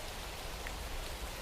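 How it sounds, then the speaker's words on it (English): Steady rain falling, a dense even hiss of drops holding at constant level throughout, no voices. "Rainy days."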